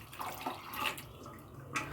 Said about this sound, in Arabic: دي كميه الميه اللي انا هضيفها على الفول.